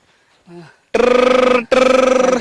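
A brief spoken sound, then a telephone rings loudly twice with a rapid trilling bell, a short gap between the rings.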